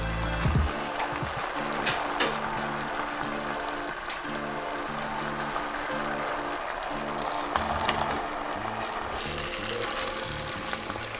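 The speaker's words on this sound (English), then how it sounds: "I am going to drain these this broccoli." Cooked broccoli drained in a home kitchen, with hot water pouring and splashing steadily into a sink, faint and continuous, with a sizzling hiss mixed in.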